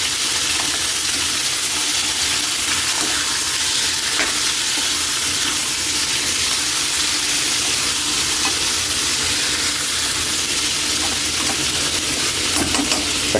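Food sizzling and frying in a hot pan while being sautéed, with a steady close crackle and occasional stirring scrapes throughout, no talking.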